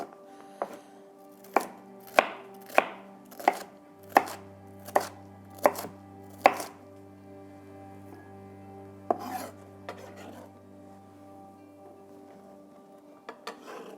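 A knife chops peppers on a cutting board in about nine crisp, evenly spaced strokes, then a pause and a few scattered lighter taps, close and clear with a faint low hum behind.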